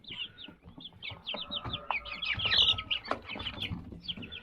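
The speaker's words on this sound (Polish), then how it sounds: "Zobaczcie, jak kurczaki się momentalnie na niego rzuciły." A flock of chickens clucks and cheeps busily as they crowd onto freshly set-out feed, with overlapping close calls and faint pecking and rustling underneath, no talking.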